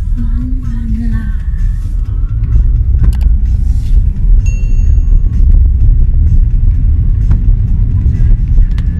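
Car driving along a road, heard from inside the cabin as a steady low engine and road rumble that continues for the whole stretch, with a brief chime and some faint background sounds.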